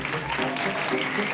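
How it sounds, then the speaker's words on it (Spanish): Audience applause for comedian Elsa Ruiz at a Madrid show, a steady dense wash of clapping held at even loudness through the short moment. "Fuerte el aplauso para Elsa Ruiz,"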